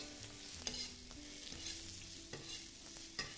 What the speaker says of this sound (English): Make sure that's smoking hot before you add your first ingredient, your asparagus. Push and fold.